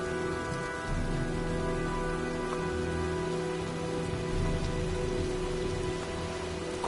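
Steady rain and storm noise from the video game Heavy Rain, a dense, even hiss of falling water with a low rumble underneath, continuous throughout.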